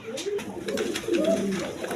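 A pair of yellow short-faced pigeons, one crested and one plain, coo in rising and falling throaty phrases, close and clear, with a voice talking over part of it.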